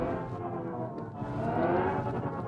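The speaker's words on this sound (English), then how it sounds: "So it puts a fake noise on, which you can turn off." A steady synthetic hum with layered tones rising gradually in pitch, the artificial engine sound of an accelerating Mini Electric, continuous and fairly loud.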